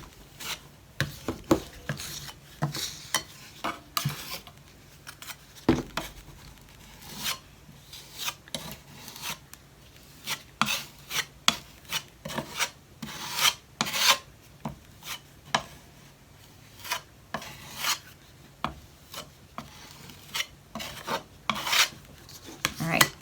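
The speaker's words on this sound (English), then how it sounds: "you use your blade and you scrape it off" A metal blade scrapes excess spackle off a door hanger in repeated short rasping strokes, close and fairly loud, with brief pauses between passes and no talking.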